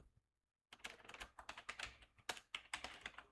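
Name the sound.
typing on a computer keyboard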